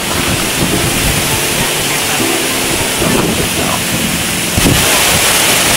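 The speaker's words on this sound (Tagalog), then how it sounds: "Malakas ang hangin." Strong wind buffets a microphone during a motorcycle ride in Sorsogon, a loud continuous roar with gusty rumbles and brief surges, steady throughout.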